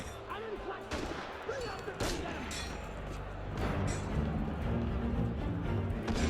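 Gunfire rings out in a video game: several sharp bursts and thumps, some near and some farther off, over a continuous busy din that swells in the second half, with a voice talking intermittently.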